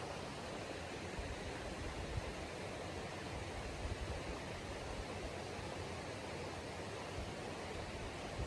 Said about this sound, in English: Might be the sort of bubbling sounds from the river.